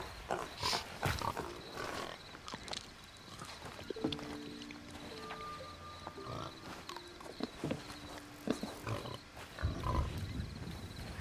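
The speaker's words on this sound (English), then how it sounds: "And I caught a pig." Pig grunts and oinks in the pirate video game Sea of Thieves, a few short tonal snorts close by, mixed with scattered game clatter and splashing ship-deck noise.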